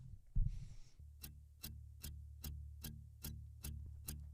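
Null-test residual of a 1073-style EQ, hardware against plugin: a quiet, low, thick hum with evenly spaced ticking transients about every 0.4 seconds, faint and steady with no voices.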